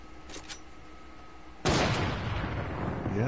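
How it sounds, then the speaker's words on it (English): Video game gunfire erupts abruptly and stays loud as a dense burst of shots close by, after a stretch of quieter background with a couple of faint earlier pops. "Somebody else over here shooting?"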